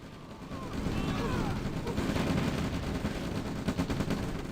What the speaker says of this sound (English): Radar Dome is getting sniped by the Blackhawks.